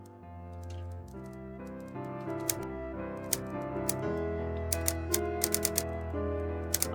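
Typewriter keys clatter in the video game Every Letter, a handful of sharp irregular strikes and a carriage-like clunk over a steady background music bed.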